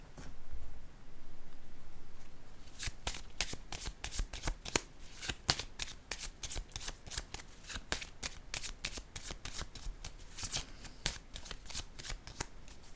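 Tarot cards shuffled close up: a soft lead-in, then a long run of rapid, crisp riffling flaps at a steady quick rhythm, with no voice over it.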